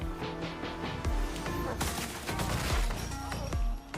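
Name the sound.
gunshots sound effect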